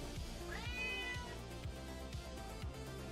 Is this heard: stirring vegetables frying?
no